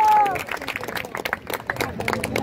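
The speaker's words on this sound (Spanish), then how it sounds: "ovación para Chao" A brief, scattered round of clapping greets a football player at a Vélez versus Tigre match, with crowd noise and voices mixed in.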